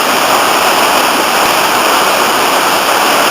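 Rushing river rapids in Aberglaslyn gorge, a steady, loud broadband roar of churning whitewater that fills the whole stretch without letup and with no voices.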